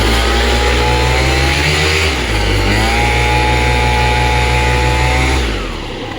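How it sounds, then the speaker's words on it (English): A 78cc two-stroke light aircraft engine fitted with a too-short pipe revs loud and steady at high speed, dips briefly, then climbs back and holds before easing off near the end, with no talk over it. "so hot pipe, hot engine, and your top end is just falling on its face"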